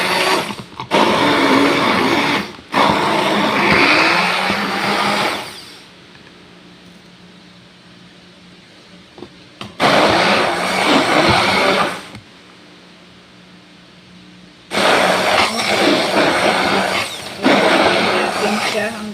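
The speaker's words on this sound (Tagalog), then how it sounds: "So, i-blend na natin siya." An electric blender purees peeled tomatoes for soup, whirring loudly in three bursts separated by quieter pauses, a harsh, steady motor roar during each run.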